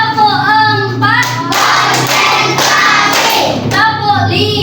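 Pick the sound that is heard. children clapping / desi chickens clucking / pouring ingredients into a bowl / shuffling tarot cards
children clapping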